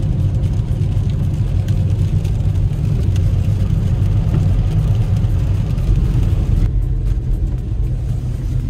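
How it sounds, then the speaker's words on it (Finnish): Toyota Avensis engine heard from inside the cabin during a test drive: a steady, muffled low rumble and whir that stays constant and fairly loud throughout, with no speech. "Se on tosi hyvin eristetty tuo moottorin ääni, mutta se kuuluu niin kuin tässä keskellä."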